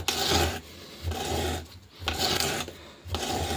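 Rough rasping strokes of a rounding plane cutting wood for a lyre, not cutting properly, several back-and-forth passes with short pauses between them, close and fairly quiet.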